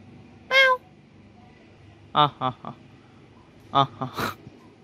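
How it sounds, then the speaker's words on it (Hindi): A cat meows outdoors in rainy weather, one short call followed by a cluster of several brief meows, clear and fairly close against a quiet background. "और उस बिल्ली को देखो, बिल्लू बिल्लू,"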